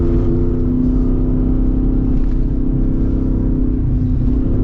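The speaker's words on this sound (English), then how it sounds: "Well, that was a good upshift." A Jeep Wrangler 392 AEV V8 drones steadily off-road, a loud, close engine rumble with a faint dip where the gear changes, no voices over it.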